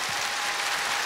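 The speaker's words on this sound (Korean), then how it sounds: "첫 번째 출연자에게 박수 주세요." At a Korean televised amateur singing contest in a Busan gymnasium, a large crowd claps for the first contestant in a brief, dense, loud burst of applause.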